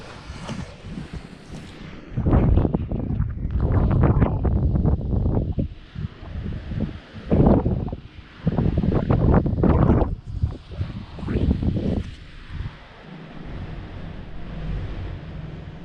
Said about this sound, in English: If you heard the wind